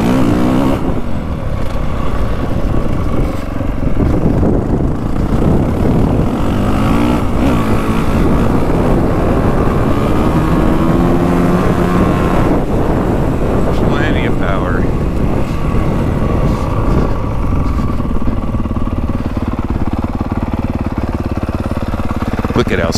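Honda CRF450WE Works Edition dirt bike riding, its engine droning steadily and building through the revs close up, with wind rush throughout and a person talking over it.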